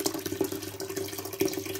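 A small water pump switched on by a Raspberry Pi Pico home automation system runs with a steady low hum under a faint, continuous trickle of moving water, close by and quiet.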